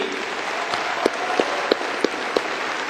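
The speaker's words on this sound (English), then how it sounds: "Let's give him a round of applause." Audience applause at a Middle Tennessee State University spring commencement ceremony: a steady wash of many hands clapping at a constant level, with a few sharper single claps standing out, and no talking.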